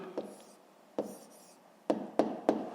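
A pen scratches out a short answer on paper in a math lesson, a few soft strokes followed by three sharper taps close together, near and quiet.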